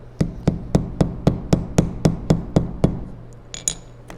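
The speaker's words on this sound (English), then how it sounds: "So just flat face hammer on my marble." A flat-face hammer taps leather resting on a marble slab for a leather book cover, about a dozen crisp, evenly spaced strikes close by, followed by a couple of faint light clinks.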